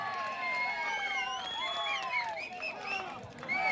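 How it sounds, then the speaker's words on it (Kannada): A crowd of spectators at a village kabaddi semi-final in Naganahalli cheers and applauds loudly and steadily, with shrill whistles and shouts rising over the clapping throughout. "ಬರ್ಲಿ ಒಂದು ಜೋರ ಚಪ್ಪಾಳೆ"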